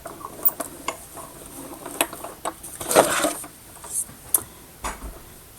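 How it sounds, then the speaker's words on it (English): A Stampin' Cut die-cutting machine feeds paper through with a run of light ticks and clicks. One louder rattling burst comes partway along, and the whole thing is fairly quiet with faint room noise. "just run that through our Stampin' Cut machine"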